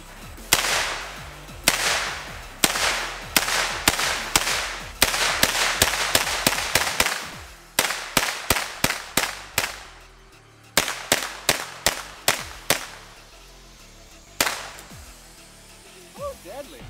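H&K 94 rifle fired outdoors, a long run of sharp, loud single gunshots at a brisk, uneven pace, mostly in quick strings with short pauses between them, and a few isolated final shots.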